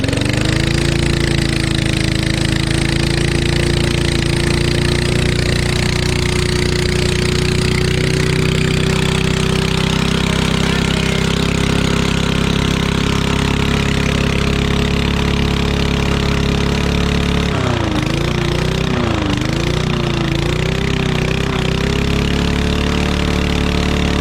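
A Yard Machine lawn mower engine with a bad muffler runs steadily and loudly with a rough, raspy exhaust rattle, its pitch wavering and dipping briefly near the end before settling again.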